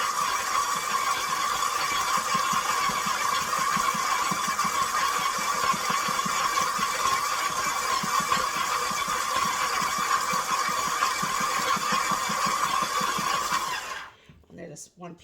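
A KitchenAid stand mixer kneads bread dough, a steady motor whine with a rhythmic thumping churn running continuously before cutting off abruptly near the end.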